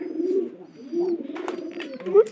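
A pair of Jalali-coloured domestic pigeons in a loft coo up close in soft, throaty repeated phrases, with faint rustling and a louder coo at the end.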